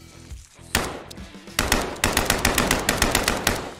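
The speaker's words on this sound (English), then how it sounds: "kill spiders using the assault rifle without reloading" Assault rifle fire in the game Kill It with Fire as spiders are shot: a couple of isolated loud shots, then a steady rapid burst of evenly spaced cracks, close and dry, with no talking.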